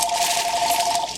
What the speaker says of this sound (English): phone's been ringing off and on and off and on.